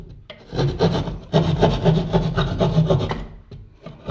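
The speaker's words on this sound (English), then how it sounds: "So the first thing I'm going to do is cut a little hole." A small hole being cut in a wall while locating studs for an in-wall speaker install, rough rasping saw strokes in close bursts with brief pauses between them.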